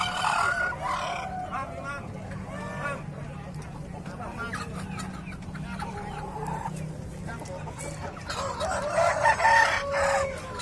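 Chickens and roosters at the crowded Ngemplak chicken market in Tulungagung, with several crows and clucks rising over a steady market din, and people talking throughout.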